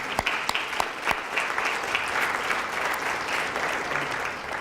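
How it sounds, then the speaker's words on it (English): Banquet audience at a Hilton dinner giving a round of applause, steady dense clapping from a roomful of people that starts with a few sharp claps and holds evenly to the end. "Let's give a round of applause for the Hilton."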